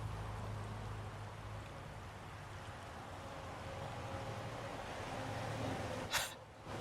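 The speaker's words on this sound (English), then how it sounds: "That's crazy. It's actually a rainy street." A steady wash of rain-like hiss fills a street scene, with a low background rumble and a brief sharp noise near the end.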